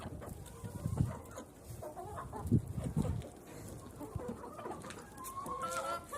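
Chickens clucking nearby, a few soft fowl calls scattered through low rustle and shuffling, feeding on sunflower waste on a frosty day.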